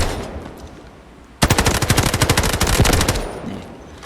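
Sustained automatic fire from a Ci19 assault rifle in the video game Delta Force, a loud rapid burst of evenly spaced shots lasting about two and a half seconds after a quieter lead-in, with no talk.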